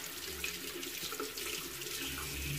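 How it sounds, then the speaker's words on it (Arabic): Cold water runs steadily from a tap as a face is splashed and washed at a sink, a continuous close rush of flowing water with no pauses. "دابا غنغسل وجهي بالماء البارد البنات"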